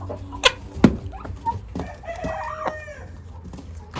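Backyard farm hens clucking close by, with short sharp clucks and a squawk early on, then a longer rising call, loud and alone with no talking.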